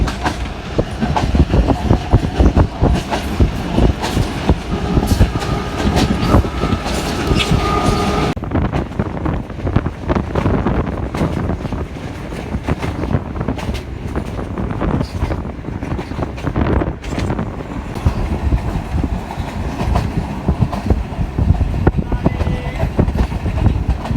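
The Millat Express rumbles along the rails in Pakistan, a loud, continuous roar of wheels and carriages with wind buffeting the microphone. The sound shifts in tone partway through and stays dense to the end.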